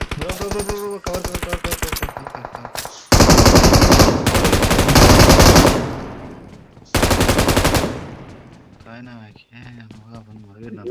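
Automatic weapon fire in the mobile battle royale game BGMI: loud, rapid bursts and long sustained volleys close up, with voices talking between and over the shots.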